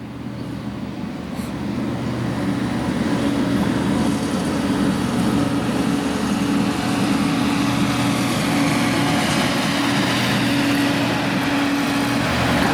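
Union Pacific maintenance-of-way equipment rolling along the track in New Mexico, a steady loud engine drone and rumble with a constant hum as the machines pass close by, sustained without a break.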